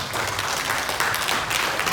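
A congregation at a deliverance and healing teaching applauds the Lord, a sustained, fairly loud crowd of clapping hands that stays even throughout, with no speech over it.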